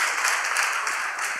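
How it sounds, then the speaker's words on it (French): Applause from a school audience of students at a French-language book presentation, a steady broadband patter of many hands held for the short stretch, moderately loud, with no voices over it. "Applaudissez pour lui."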